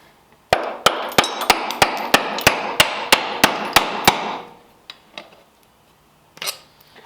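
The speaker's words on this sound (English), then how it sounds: "I'm gonna have to get the hammer out." A hammer strikes an old engine intake in an evenly spaced run of about twelve sharp metallic blows, close and loud, followed by a few scattered lighter knocks and clunks.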